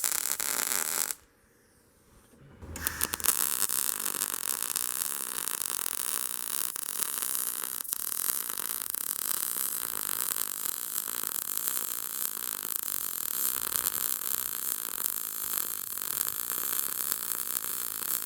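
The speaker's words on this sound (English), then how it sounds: "I'm just getting this thing welded together" Steel parts of an offset reverse-flow BBQ smoker being welded: after a brief quiet gap near the start, a steady close crackling buzz runs continuously to the end, with no talking.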